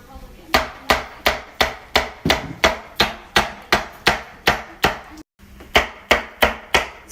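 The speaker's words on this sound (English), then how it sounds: "Chop them up." Knife chopping green onions on a board: about sixteen steady, crisp thuds in an even rhythm, close and loud, with one brief pause before the chopping resumes.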